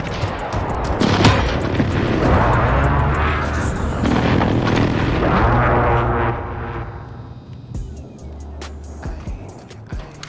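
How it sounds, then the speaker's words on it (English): Heavy precision airstrike explosions in a Search and Destroy match, loud rumbling blasts with sharp cracks rolling together for several seconds before fading into scattered distant pops and footsteps, with brief voices. "Enemy precision airstrike."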